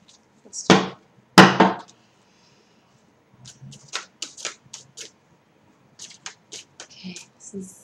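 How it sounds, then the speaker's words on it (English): Tarot cards shuffled by hand, two brisk, close riffling bursts followed by a run of softer, scattered taps and slides of the deck, with no voices. "Let's see me shuffling."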